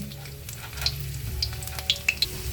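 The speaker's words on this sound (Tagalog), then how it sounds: "Pag mainit na ang oil, ilagay na yung yung luya." Ginger frying in hot oil in a pan, a steady close sizzle with a few sharp pops and crackles spread through it and no one talking.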